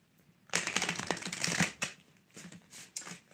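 Close, crisp riffling and slapping of a deck of tattoo tarot cards being shuffled, one long burst followed by a few shorter ones, with no talking.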